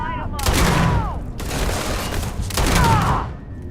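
Rapid bursts of automatic gunfire ring out in the space shooter game Starfield, three loud sustained volleys separated by short gaps, with a faint voice under the shooting.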